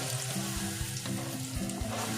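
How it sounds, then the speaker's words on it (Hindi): Besan (gram flour) batter frying in hot oil in a kadhai while being stirred continuously, a dense close sizzle with rhythmic spatula strokes over a low hum, short and steady. "इस तरह से लगातार चलाते हुए हम इसे भुनेंगे"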